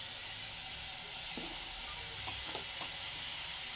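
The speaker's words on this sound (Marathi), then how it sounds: "मस्तपैकी असं आपण मिक्स करून घेऊ कारण की ते मस्त शिजेल." Vegetables for veg momos cook in a pan with a soft, continuous sizzle and hiss, broken by a few quick scraping stirs partway through.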